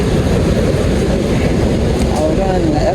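A New York subway A train rumbles and clatters loudly along the tracks, a dense continuous roar heard from inside the car with faint squeals near the end.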